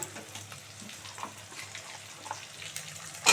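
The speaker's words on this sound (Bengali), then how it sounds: "ভালো করে লাল করে ভাজা হোক বন্ধুরা" Dried fish fries in oil in a pan as potatoes are added, a faint, low sizzle with light crackles and occasional stirring scrapes, ending in a brief louder clatter.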